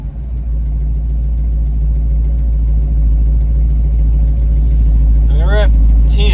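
An Oldsmobile 403 V8 held at high idle, a loud steady low rumble close by, with a faint whistling chirp near the end and no change in pace.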